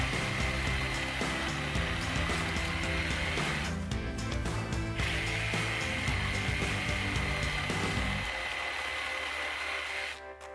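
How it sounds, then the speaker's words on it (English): A jigsaw cuts notch lines into the end of a piece of wood for a DIY pot plant stand, giving a loud, steady buzzing whine that runs almost unbroken through the clip and drops away near the end. "using a jigsaw, and what I'm doing is I'm cutting lines right into the end line in the center of the wood"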